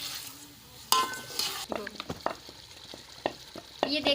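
Chicken cooking in spices in a pot, with a soft sizzle under scraping spoon strokes and clinks against the pan, stirred in irregular bursts at close range.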